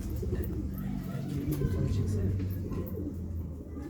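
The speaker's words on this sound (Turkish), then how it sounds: "Güvercinlerin arasında yavru bakıyor burada." Wild pigeons coo in a low, steady murmur among a roosting flock with young birds, with voices talking throughout and faint traffic in the background.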